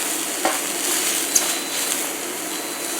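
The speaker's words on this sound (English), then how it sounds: "And as this cooks, it's going to release moisture from the vegetables" Vegetables with onions sizzling steadily in a hot pan, a continuous bright hiss with a couple of faint clicks of stirring, close and alone without talk.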